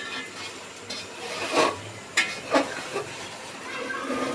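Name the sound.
rice frying in a pan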